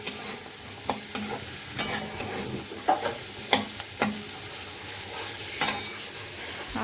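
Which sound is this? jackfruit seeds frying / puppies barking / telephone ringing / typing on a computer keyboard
jackfruit seeds frying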